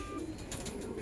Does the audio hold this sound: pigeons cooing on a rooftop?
yes